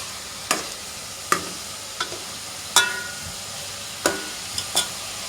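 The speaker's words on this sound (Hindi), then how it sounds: "बस अभी मैंने अदरक लहसुन डाला, अदरक लहसुन जैसे भुन जाएगा" Ginger and garlic frying in a pan for chicken nihari, a steady sizzle broken by several sharp scraping clatters of a spoon against the pan, spaced irregularly, close and with no talking.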